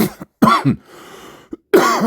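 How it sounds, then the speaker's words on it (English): Several harsh coughs and throat-clearing bursts, close and loud, separated by short pauses and a brief breathy gap. "Sorry, I got a cough."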